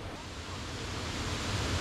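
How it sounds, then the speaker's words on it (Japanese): Steady broadband rush of a nearby waterfall in a mountain stream gorge, constant and fairly loud, with no clear voices. "滝が近いからかな。"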